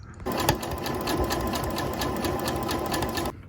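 A sewing machine runs steadily and close up, stitching along the front of a camp shirt made from a see-through lace tablecloth. The motor's even whir holds for about three seconds before stopping.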